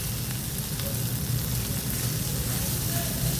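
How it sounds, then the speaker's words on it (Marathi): Okra frying in a pan on a low flame gives a steady, close sizzle with soft scraping and stirring running under it throughout, and no voice is heard. "2 मिनटानंतर झाकण काढून हे मिक्स करून घेऊया."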